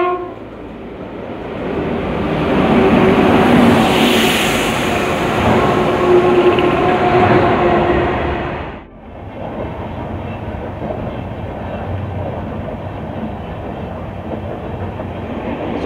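Samleswari Express rolling along the rails on the Jeypore–Koraput line, a loud steady rumble and rattle that drops sharply near the nine-second mark and then continues at a lower level.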